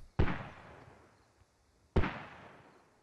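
Two sharp, heavy booms of mortar fire in the military shooter Squad, each a sudden loud blast trailing off into a long rumbling decay, spaced almost two seconds apart with no talking.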